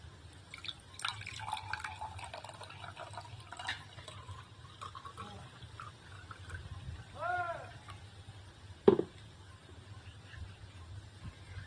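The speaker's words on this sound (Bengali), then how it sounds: "তারপরে দেবো জল" Water pours into a glass of lemon sherbet, a quiet trickle and dripping that swells into a rising filling sound, ending with a single sharp knock, with faint voices in the background.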